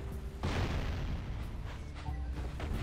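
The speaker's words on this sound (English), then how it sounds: "Hopefully that will explode where I need it to explode." A loud explosion sounds in the Jak and Daxter video game on Sentinel Beach, with a sharp broadband burst followed by a sustained rumbling boom and a second smaller blast near the end, with no talk.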